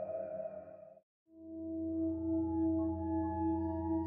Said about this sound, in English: Japanese Alert System.